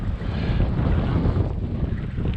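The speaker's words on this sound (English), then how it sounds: "It's quite windy." Strong wind buffets a helmet-mounted camera microphone on a dry creek mountain bike trail, a continuous loud rumbling roar with gusty fluctuations.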